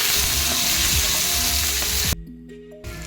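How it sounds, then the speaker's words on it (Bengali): Tomato and chopped chilli stirred in a hot pan for chicken pasta, loud close sizzling and scraping that drops off abruptly near the end, then a brief faint return. "টমেটো টুকরো লঙ্কার কুচি এগুলো দিয়ে ভালো করে এটা নাড়িয়ে নিতে হবে"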